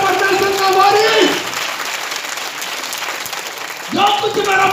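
Congregation clapping hands during a Hindi and Bengali church sermon, a loud burst of applause at the start that fades, then returns strongly near the end, with a preacher's voice talking over it.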